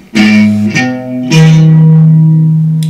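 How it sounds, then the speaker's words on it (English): Three loud, ringing guitar chords strummed in turn, the last, a minor chord with a flattened third, sustaining and slowly fading with a dark tone. "Minor chord with this flattened third"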